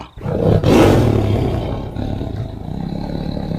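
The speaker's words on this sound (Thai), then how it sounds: "มันคำรามขึ้น เสียงดังก้องป่า" A tiger lets out a loud, close roar that swells in the first second and then trails off into a long rumbling growl in a wild forest setting, with no voices.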